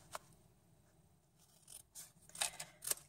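Scissors snip through a cardstock tab along its score line, giving a few soft, close crisp cuts with light rustling of paper between them, fairly quiet.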